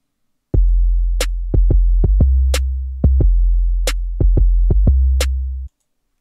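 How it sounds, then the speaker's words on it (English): A deep trap bass line of long sustained low notes in a few repeating phrases, punctuated by short bright clicks and hi-hat-like ticks, with no talking. "I made a bass line that sounds something like this"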